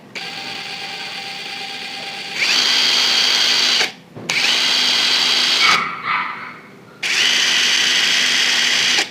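A NAGAWA BIS12U cordless impact driver runs on a JLD impact wrench battery. A steady high whir comes in several loud bursts, with short stops and a quieter spin-down between them.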